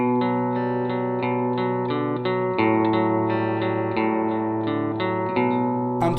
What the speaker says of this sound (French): Ok, on va donner un petit peu de corps juste en rajoutant de la reverb.